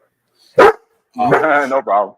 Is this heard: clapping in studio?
no